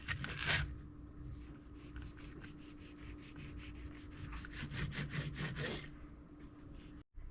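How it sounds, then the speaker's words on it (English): A knife saws gently back and forth through juicy food in a steady rhythm of soft rasping strokes, close and fairly quiet. "I'm just sawing very gently so I don't squeeze all the juice"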